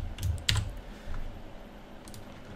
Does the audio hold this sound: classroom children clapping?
no